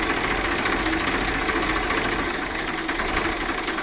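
A 2013 Massey Ferguson 1035 DI tractor's diesel engine idling close by, a steady, loud, rattling knock with even vibration throughout and no talk over it.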